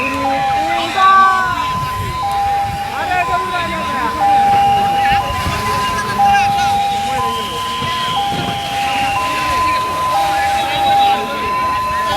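An ambulance siren wails in a repeating two-tone pattern throughout a factory fire drill, loud and steady, while several people talk and shout over it amid vehicle noise.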